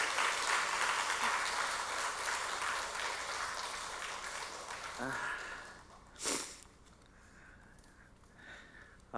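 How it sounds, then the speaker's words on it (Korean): A church congregation applauds to welcome a guest during a worship service. Dense, continuous clapping fills the first few seconds, then fades into quieter room sound with a brief burst near the end. "박수로 환영하겠습니다."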